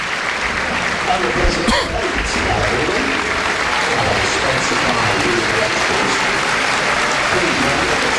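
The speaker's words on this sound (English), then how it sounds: "that is Whelan coming off and getting a lot of applause there" A football crowd at a Carlisle United v Sutton United match applauds a player being substituted off, a broad, sustained wash of clapping from the stands with a commentator talking over it.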